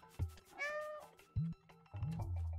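A cartoonish cat meows several times in short, clear bursts, close and fairly quiet, with brief pauses between each meow, in the video game Stray.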